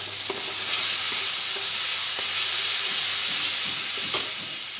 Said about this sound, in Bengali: আবার একটু মশলাটাকে ভালো করে কষি নেব।